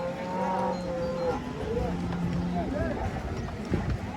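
Cattle at a meat shop selling beef give a couple of low moos amid crowd noise, with people talking over and around them.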